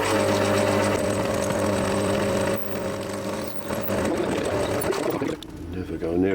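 Small electric drill running with a sharp 4.1mm bit in the chuck, a steady continuous whir with a slight change in pitch toward the end as it spins down.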